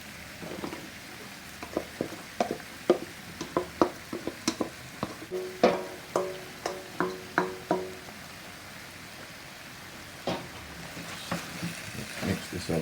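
Curry chicken with seasoning, carrot and potato gets stirred in a pot, with a series of irregular clinks and scrapes from the spoon against the pot over a soft simmering hiss.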